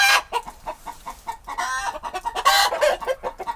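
Chickens kept in a winter coop alongside geese give a warning call: a run of repeated, sharp clucks and squawks, fairly close and loud, rising into a couple of harsher outbursts.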